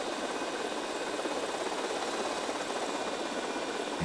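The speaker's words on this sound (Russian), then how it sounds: "Направить вертолет Арси на бомбу, чтобы ее взять." A steady, moderately quiet whirring engine drone from an RC helicopter in GTA Vice City, an even, unbroken buzz with no talking.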